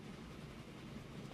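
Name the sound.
locomotive train hauling goods in video game Transport Fever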